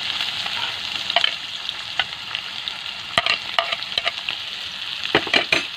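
Onions frying in oil in a pan after potatoes and bay leaves, a steady close sizzle broken by sharp scraping clacks of a spoon stirring against the pan.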